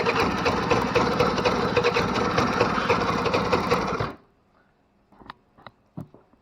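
A 1986 Honda Spree scooter left outside for 25 years starts and runs rich, a rapid buzzing putter for about four seconds that then cuts out, followed by a few scattered clicks and taps.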